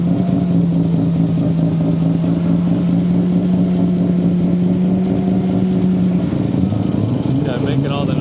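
A time attack race car revs hard in the paddock at Attack Tsukuba, its engine droning loud and sustained with steady pulsing, then dropping near the end as voices talk over it.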